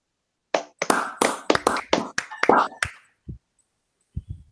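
A group of participants in a school counseling session claps in unison, about nine sharp claps in a quick rhythmic run, then a pause and two or three softer, scattered claps.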